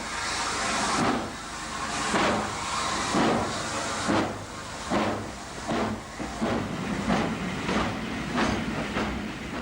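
Double-headed pannier tank steam locomotives work at Chester, giving a rhythmic series of loud, hissing exhaust chuffs roughly once a second over a steady rumble, fairly close with no voices.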